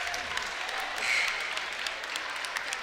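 A high school boys basketball crowd in a gym claps for a senior player who has fouled out on senior night, a brief warm round of applause under a play-by-play announcer's voice.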